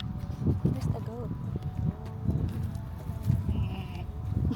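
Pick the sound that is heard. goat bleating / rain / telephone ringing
goat bleating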